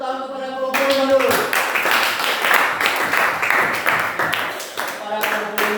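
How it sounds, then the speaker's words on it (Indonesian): Classroom audience claps for a group's presentation, a lively burst of individual hand claps rising quickly after a spoken voice, with a voice returning at the end. "tepuk tangan kepada kelompok 5 dulu"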